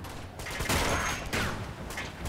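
Rapid bursts of gunfire from an Uncharted 2: Among Thieves firefight, loud and dense, with several sharp volleys stacking into a sustained fusillade over the short stretch.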